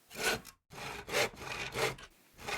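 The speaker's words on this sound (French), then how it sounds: "Aurel faisait chanter sa scie pour réparer un bas de porte afin d'améliorer l'isolation de la maison partagée" A hand saw cuts through wood while a door bottom is repaired, giving four rhythmic rasping strokes close up, each push and pull loud and clear, with a brief pause between the first two.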